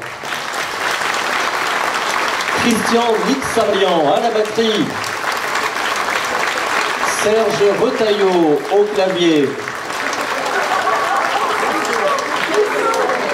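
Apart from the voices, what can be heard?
audience applauding the musicians at a concert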